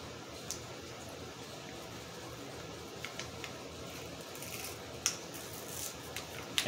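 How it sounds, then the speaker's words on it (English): A backing sheet is peeled off a white toner transfer print, a faint, soft crackling and tearing with a few small sharp ticks near the end, close and quiet against a low background hum. "Let's peel off the backing sheet."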